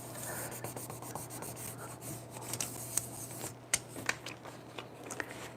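Stickers are burnished down by hand, a soft, faint, close-up rubbing and scraping with a few small sharp ticks and clicks scattered through it, alone without speech.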